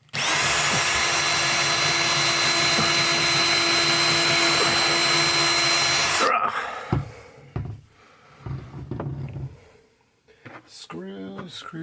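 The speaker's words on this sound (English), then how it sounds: "so we're going to drill" A power drill drilling into a wall whines loudly and steadily for about six seconds, then stops, followed by softer handling clatter and a voice speaking.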